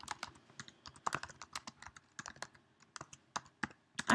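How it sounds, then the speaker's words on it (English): Typing on a computer keyboard, rapid irregular clicking keystrokes, close and fairly quiet, with no talk. "I cannot type today."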